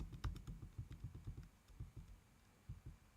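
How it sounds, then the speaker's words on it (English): Arrow keys tapped repeatedly on a computer keyboard, a quick irregular run of close, crisp clicks, several in rapid succession, with no talking. "I'm going to use the arrow keys now to just gently edge that"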